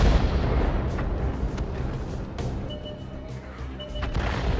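Artillery fire in the World of Tanks video game on the Erlenberg map: heavy, booming blasts with sharp cracks rise over a dense, continuous rumble of battle noise.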